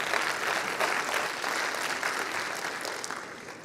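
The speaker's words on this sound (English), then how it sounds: "Another round of applause for Kago and his team." Applause for a team at the Safaricom Engineering Summit, a steady wash of crowd clapping in a large hall that eases off slightly toward the end.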